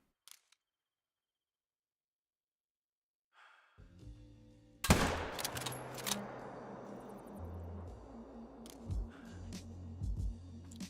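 A loud rifle shot rings out in a hunting video game, set at a lake where black bears are being hunted, followed by a lingering rumbling tail and game ambience after a quiet opening.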